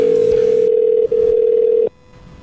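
A telephone tone plays during a live radio call. A single loud, steady tone holds with one short break, then cuts off abruptly, leaving quiet line noise.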